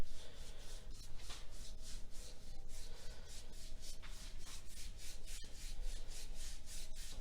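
A paintbrush dry-brushes the edge of a wooden table, a continuous close scratchy rubbing with rhythmic back-and-forth strokes, heard alone.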